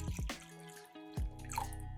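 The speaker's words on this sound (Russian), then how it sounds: "Все заливаем водой так, чтобы яйца покрылись жидкостью" Water runs and drips into a pot over eggs, with a gurgling splash midway and a steady trickle continuing close by.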